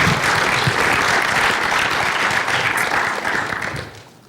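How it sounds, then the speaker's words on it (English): An audience at a security conference talk gives a warm round of applause, a dense, even wash of many hands clapping that holds steady and then tapers off near the end. "a warm round of applause"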